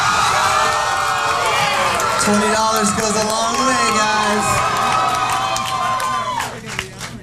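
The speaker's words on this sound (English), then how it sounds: "you guys are really getting a great crowd reaction" A large, loud crowd cheering and whooping for a band at a televised band competition, a sustained roar of shouts and screams with a voice talking over it before it fades near the end.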